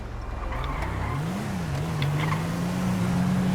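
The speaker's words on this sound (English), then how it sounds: "Look, there's different cars on the road in this game." Car engines in a driving video game hum steadily, with the engine note climbing and then holding as a vehicle accelerates, a continuous mid-level drone with no talk.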